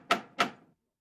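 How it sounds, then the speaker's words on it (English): A door opening at a large house, heard as two sharp wooden knocks or clacks about a third of a second apart, close and clean, each fading quickly into silence. "A servant opened the door."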